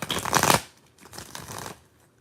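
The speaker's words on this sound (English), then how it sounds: "let me get a quick shuffle" Tarot cards riffle and slap together in two quick shuffling bursts, close and crisp, then fade to quiet.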